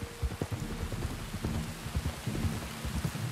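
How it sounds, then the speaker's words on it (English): Steady rain pours in the open-world western game Red Dead Redemption 2, a dense, even hiss with scattered heavier drops and soft low rumbles, heard alone without talk. "You were right about the damn rain."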